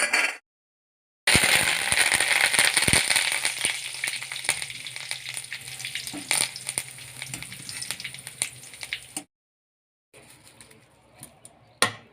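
Ingredients for a fasting-style potato chivda frying in hot oil, a loud crackling sizzle that starts abruptly, fades gradually and then cuts out, with a quieter stretch of kitchen sounds at the end.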